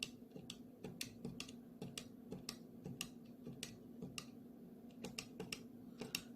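Quiet, irregular computer keyboard key presses, sharp little clicks spread across several seconds over a low steady hum.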